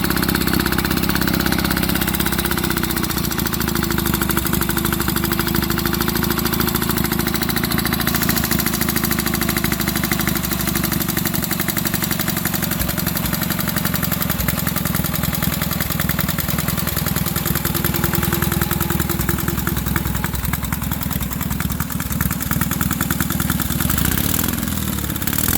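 A vintage BMW motorcycle engine, started after months unused, idles loud and close with a steady knocking, mechanical chatter and exhaust rumble throughout.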